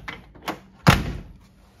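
The door lock solenoid on a 1958 Cadillac Eldorado Brougham: two light clicks, then one sharp, solid clunk as the lock engages, close up and with no voices.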